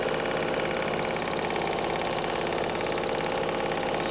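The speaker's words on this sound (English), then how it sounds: "doing some quilting on this pretty fabric" Sewing machine quilting patterned fabric, a continuous loud rapid mechanical whirring and stitching chatter at close range, steady throughout with no talking.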